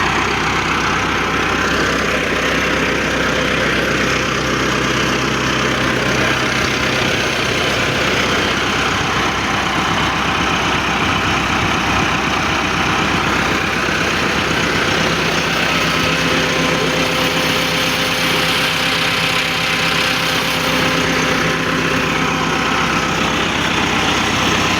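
A Massey Ferguson 385 tractor engine running at a tube well, a loud, steady diesel drone with a deep rumble that holds unbroken from start to finish, no voices.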